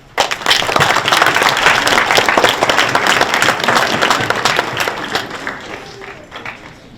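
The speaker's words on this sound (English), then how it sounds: "let's welcome Mr. Parker to the front." Loud applause from a crowd at a Dr. Martin Luther King Jr. Day celebration welcoming a guest speaker to the front, swelling quickly, holding for several seconds, then tapering off into scattered claps.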